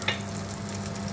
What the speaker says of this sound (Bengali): ভাজা হয়ে যাচ্ছে, আর একটু ভাজবো